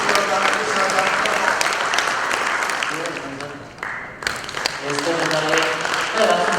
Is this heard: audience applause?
yes